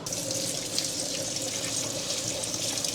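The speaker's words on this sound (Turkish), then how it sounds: "Bu böyle kavrulana kadar 2 dakika pirinçlerimi yıkıyorum" Rice is rinsed under a running kitchen tap, giving a steady close hiss of flowing water splashing into a pot or bowl for the whole stretch.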